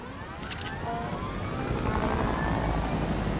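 Helicopter in a video game, a loud steady rotor whir and engine drone close by, holding constant throughout with no speech.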